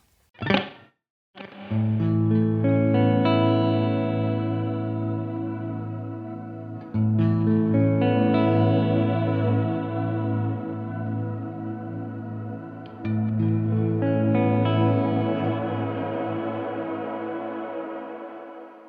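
An electric guitar strikes a few chords, each ringing out and lingering in a long, shimmering reverb tail that blends into the next.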